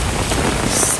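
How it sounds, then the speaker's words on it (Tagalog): A dense, steady hiss of heavy rain pouring down during Typhoon Shanshan, loud and unbroken throughout. "kusog yung ulan guys no."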